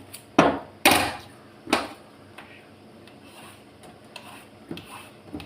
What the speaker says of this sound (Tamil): இந்த சொரக்காய் நான் பீலர் வச்சு கட் பண்ணிக்கிறேன்.